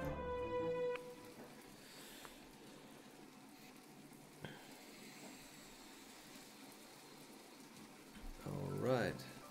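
Rain in My Time at Portia: a faint, steady hiss of falling rain as background ambience, with game chimes at the start and end and a player talking over it.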